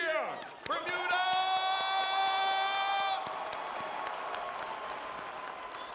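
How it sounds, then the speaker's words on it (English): Audience in Bermuda applauding and cheering to welcome visitors, a sustained wash of clapping and crowd noise with a loud tonal horn or music chord over the first few seconds, then fading to steady applause. "let's give our visitors a welcoming hand and cheer"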